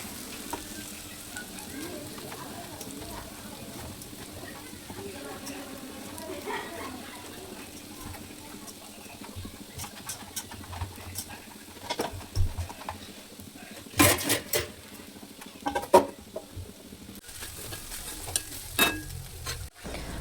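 Okra cooking in a pan with turmeric, salt, chili and coriander-cumin powder, a low continuous sizzle with occasional stirring clinks and scrapes, sharper knocks toward the end.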